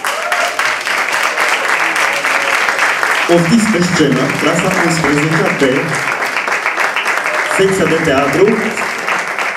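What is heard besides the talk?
audience applause for class 11 B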